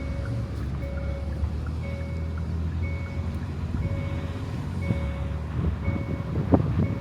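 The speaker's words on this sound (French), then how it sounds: "Désolé pour le bruit de la ceinture." Inside a car, a seatbelt warning chime repeats as evenly spaced short beeps over steady engine and road rumble, with a few knocks near the end.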